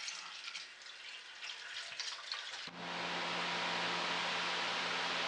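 Evaporust poured into a rusty gas tank from a 5hp Roto Tiller, a faint rustle that gives way to a steady, even rush of pouring liquid, close and without talk.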